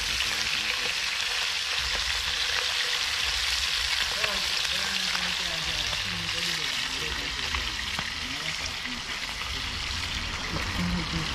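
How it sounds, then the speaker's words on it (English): Fish sizzles in hot oil in a frying pan at a fish fry festival: a steady, dense crackle and hiss that runs close and loud throughout. "frying some fish"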